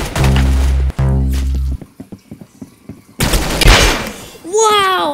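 Gunfire in the Roblox shooter Arsenal: long sustained automatic bursts, then a run of quick separate shots, then another loud continuous burst, all close and dominant.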